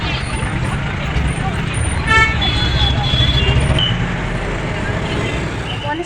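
Congested road traffic in a jam near a crowded party, with engines rumbling and a steady high-pitched horn toot sounding over the din, plus a brief burst of louder honking midway; a voice talks throughout.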